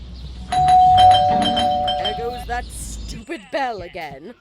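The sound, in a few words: doorbell ringing in Scary Teacher video game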